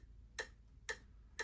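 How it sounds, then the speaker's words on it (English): Metronome ticking at 120 beats per minute, three crisp, evenly spaced clicks at half-second intervals, faint and isolated against a quiet background. "stay in time with the metronome"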